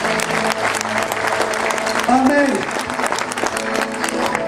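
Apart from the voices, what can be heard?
congregation applauding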